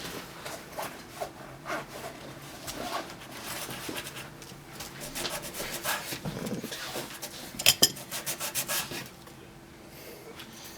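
A small toy trailer hitch adapter, made to fit a scale Oshkosh model, being sanded by hand: continuous close scratchy rubbing strokes that swell and ease unevenly, with one brief sharper scrape partway through.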